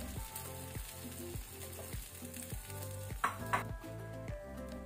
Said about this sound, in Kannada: ಈಗ ಎಣ್ಣೆ ಬಿಸಿ ಆದ ನಂತರ ನಾವು ಎಗ್ ಅನ್ನು ಹಾಕೊಳ್ಳುವ.